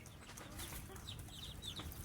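Young chickens, about two to three months old and suffering from a snoring respiratory illness, cluck and chirp faintly in short scattered calls over a steady low background.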